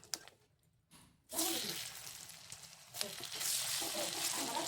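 A bay leaf, a dried chili and whole cumin seeds drop into hot oil and burst into a loud, steady sizzle after a brief quiet start, crackling close up and continuing to the end.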